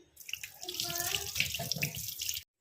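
Water runs from a tap over freshly cut live rohu fish pieces in a sink, splashing and gurgling steadily for a couple of seconds before cutting off abruptly; faint background sounds mix in.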